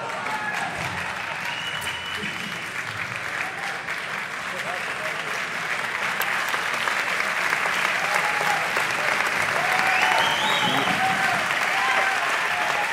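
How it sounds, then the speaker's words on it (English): A crowd applauds at a racquetball US Open semifinal, steady clapping that swells louder partway through, with a commentator's voice audible over it. "The crowd very appreciative of these two players' efforts."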